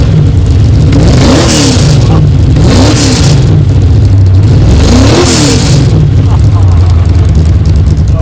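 A race car engine at a Donington Park season-opener race meeting fires up and revs loudly, with repeated rising-and-falling revs over a steady rumbling idle, close and continuous throughout.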